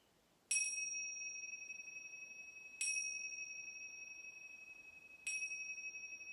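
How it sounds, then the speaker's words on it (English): A small bell rings three times at even intervals during a prenatal yoga session, each clear, bright ding ringing out softly and fading in a quiet room. "When you hear the bell, gently bring yourself up to a comfortable seat."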